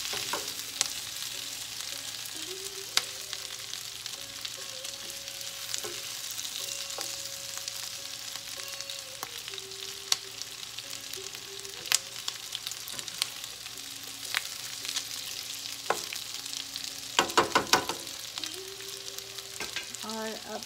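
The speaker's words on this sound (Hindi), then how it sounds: "भी ऐसे ही पकाना है थोड़ा सा और इसको चलाना है थोड़ा सा" Potatoes and capsicum cooking in a pan for aloo shimla mirch sabzi, a steady soft sizzle with scattered scraping stirs and clinks of a spoon against the pan, with a few louder clatters near the end.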